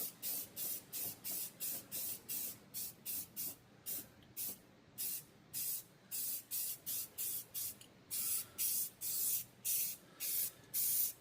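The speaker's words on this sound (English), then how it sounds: "So get some spraying done here" Paint sprays onto floors in many short hissing bursts, a steady rhythm of spray and pause, fairly faint.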